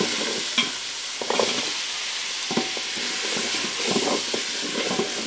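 Rice and carrot fry in ghee in a pan for ghee rice, a soft continuous sizzle with intermittent scraping taps as the spoon stirs, fairly quiet and close, no talking.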